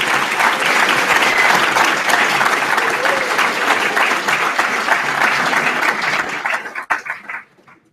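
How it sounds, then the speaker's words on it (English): A large commencement audience claps for intern award recipients, loud dense applause holding steady for several seconds before tapering off and fading out near the end. "Let's do another round of applause for all of our intern awards."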